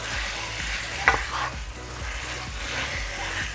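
Pork frying in a pan for moussaka, a soft steady sizzle with a faint regular stirring rhythm and one brief clink of a utensil, close and quiet.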